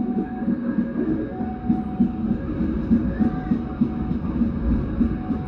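A passenger train runs onto single track past Andir station toward Ciroyom in Bandung, heard from on board with a steady, rhythmic clatter of wheels over rail joints under a continuous low rumble.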